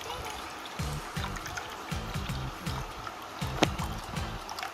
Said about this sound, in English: We have to pour water.